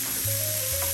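Tomato sautés in a pan while street tacos are made, with a brief, steady hiss of sizzling close by and a low hum running underneath.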